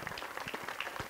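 Faint, distant applause from an audience at a classical music festival event in Roccella, steady dense clapping with no voices over it.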